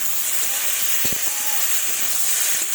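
Chopped tomato goes into a pan of cooking maya fish and thorny brinjal, giving a loud, steady sizzling hiss that fills the whole stretch, with a couple of soft thumps partway through.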